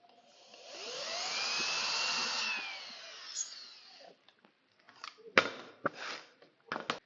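A power drill whines steadily for a few seconds while boring holes to install VB fittings, followed by scattered clicks and knocks of handling hardware.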